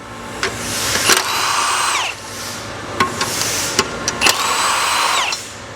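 Machines in a CNC workshop whine and grind in the background, with cutting passes that rise and stop, sharp knocks and a steady mechanical hum throughout.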